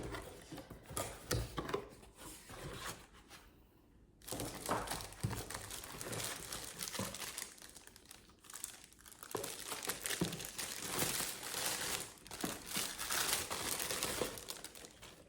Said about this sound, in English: So let's unbox the warmer.